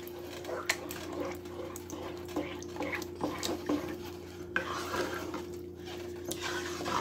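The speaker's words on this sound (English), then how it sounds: "I'm going to stir this up." A spoon stirs homemade spaghetti sauce with seasoned hamburger in a pot, giving soft scraping and scattered light clinks against the metal over a steady low background hum, with no talking.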